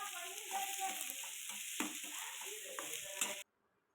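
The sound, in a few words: onions and curry leaves sautéing in a pan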